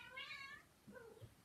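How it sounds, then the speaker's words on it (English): A cat meows twice in an episode of Sonic Prime, first a clear high meow, then a lower, rougher one, both quiet. "A cat."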